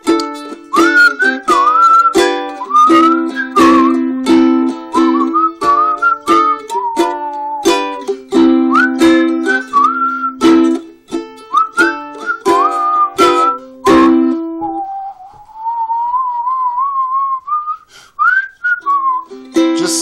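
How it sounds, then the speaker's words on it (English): A group whistles a tune together with quick clipped notes, then one whistler carries a wavering line alone before others rejoin, close and clear. "Everybody whistle."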